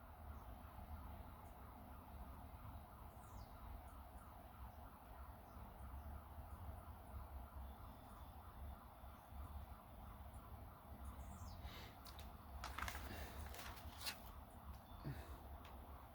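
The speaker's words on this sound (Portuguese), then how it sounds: "Barulho de ambulância" An ambulance siren wails faintly in the distance, a repeating rising and falling tone over low background rumble, with a few brief sharp noises near the end.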